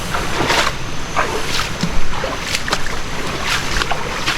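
Barefoot wading through ankle-to-shin-deep stream water on the way to a secret waterfall in Bali, with close sloshing and splashing steps over a constant rush of flowing water.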